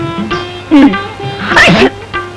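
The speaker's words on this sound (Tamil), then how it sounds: "தும்மல்? நான் என்ன இருமல்லாம் சொன்னேன்?" One loud, close sneeze in a Tamil comedy film scene, a sharp burst over a faint steady hum with brief voice-like sounds around it.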